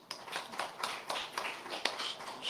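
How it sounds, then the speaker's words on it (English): Scattered, fairly faint applause from a conference audience after a presentation, a sparse patter of separate claps with no one speaking. "I'll communicate to her that you clap for her presentation"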